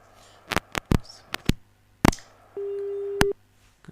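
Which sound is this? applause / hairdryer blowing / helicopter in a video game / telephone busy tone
telephone busy tone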